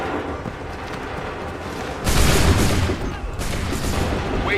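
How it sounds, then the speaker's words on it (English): Musket volleys crackle in the Assassin's Creed 3 video game: a loud massed burst of gunfire erupts, dips, then a second ragged volley follows over battlefield din. "Open fire."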